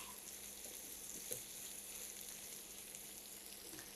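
Onions fry in a pan for fried fish with a steady, soft, even sizzle and one small pop, alone throughout.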